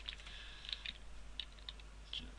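Code being typed on a computer keyboard, a quick run of light, irregular key clicks, close and quiet with no other sound.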